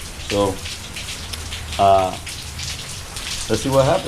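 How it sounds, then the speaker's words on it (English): Rain falls steadily outdoors as a soft, even patter beneath a person talking in short bursts. "So right now, it's still raining."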